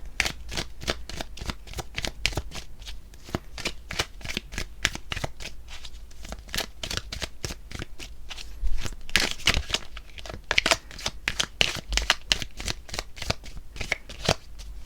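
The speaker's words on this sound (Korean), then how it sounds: "그래서 제가 추가 카드를 한번 뽑아볼게요." Tarot cards shuffled by hand in a quiet room, a close, crisp run of rapid riffling flutters and slaps repeating steadily throughout, with no talking.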